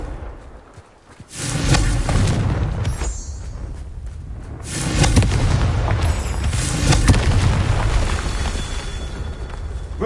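Confringo spell explosions in the video game Hogwarts Legacy: two loud, booming blasts, the first after a brief lull and the second a few seconds later, each trailing into a sustained rumbling roar.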